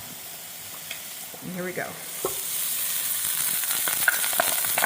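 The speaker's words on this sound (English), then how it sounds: "Now I'm going to add my rice, and I'm adding some cooking oil." Cooked rice for chicken fried rice sizzles and crackles in hot cooking oil, a steady frying hiss that grows louder and busier, with a few brief spoken words over it early on.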